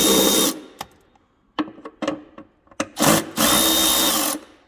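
Electric ratchet fitted with a 14 mm socket spinning on the drain bolt of an Arctic Cat 1100 Turbo snowmobile: loud, close buzzing whirs in several bursts, a long run at the start and end with short stuttering pulses between.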